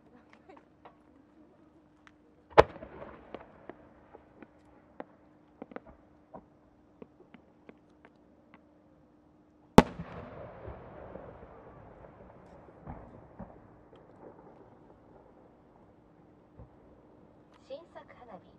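Large aerial firework shells from a Japanese display burst in two sharp booms, each followed by a long crackling, sizzling tail and scattered pops, including a triple-changing chrysanthemum shell; a narrator speaks quietly over the quieter gaps.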